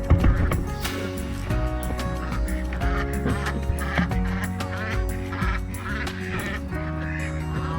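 Indian Runner ducks in a backyard flock call close by, with repeated honking quacks overlapping in a busy, continuous chorus and no talking.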